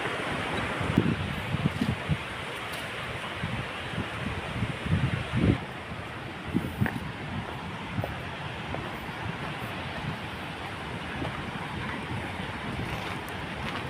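Steady wind roars and buffets the microphone outdoors at Khone Phapheng waterfall in southern Laos, a continuous broad rushing with occasional low gusty thumps.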